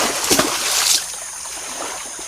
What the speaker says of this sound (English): they actually have to jump out of the water, take a gulp of air, and then land back in the water